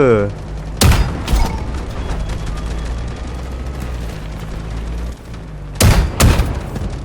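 Game gunfire in Delta Force Hawk Ops: a couple of loud shots open the stretch, then a steady low rumble of gameplay ambience, then another cluster of two or three heavy shots near the end.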